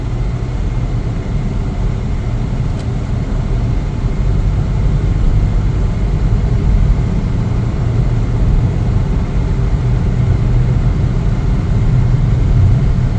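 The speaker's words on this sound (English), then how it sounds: "Take it for a test drive." A 2024 Chevrolet Trax 2RS cruising on a test drive, its engine and road noise forming a steady, even low rumble inside the cabin for the whole stretch, with no talk over it.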